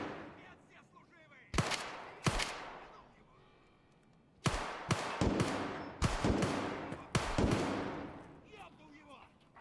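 Gunfire in Escape from Tarkov: several loud, sharp shots, some singly and some in quick bursts, each with a ringing echo tail, cracking out amid quieter background ambience.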